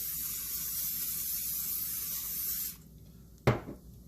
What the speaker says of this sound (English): I'm going to give it another little spray